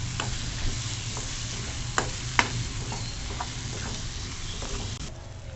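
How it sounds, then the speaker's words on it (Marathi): Onion, garlic, masala and turmeric sauté in oil in a pan for a matki batata dry vegetable dish, with a soft continuous sizzle broken by a few sharper scraping taps of stirring, close and without talk. "हे बघा आपण मसाला कसा छान परतवून घेतला बघा कसं छान तेल सुटतंय"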